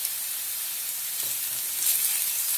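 Crushed ginger and garlic hit a pan of browned onions, giving a steady, bright, close sizzling hiss that swells slightly toward the end.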